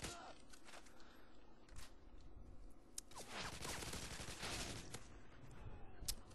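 TAR rifle fitted with a silencer firing in the game Modern Warfare 2, rapid suppressed bursts of shots under a steady layer of battle noise, with occasional footstep-like thuds mixed in.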